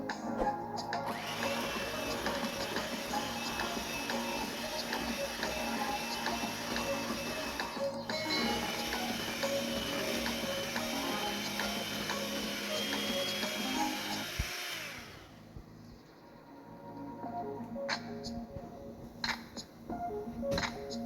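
A mixer whirs steadily through cupcake batter, a dense continuous mechanical drone that cuts off partway through, leaving quieter handling noise afterward.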